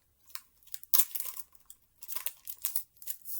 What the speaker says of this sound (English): what I do is I tape these handles down